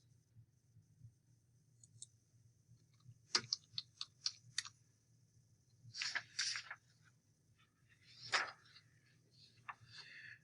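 Computer keyboard typing while entering a library database search, quiet bursts of separate key clicks in irregular clusters against a soft low hum, with no speech.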